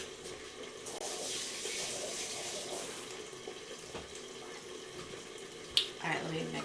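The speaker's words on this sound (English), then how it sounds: "I'm just gonna wash my hands." Water from a kitchen tap runs steadily while hands are washed beneath it, a soft continuous splashing with a brief louder splash near the end.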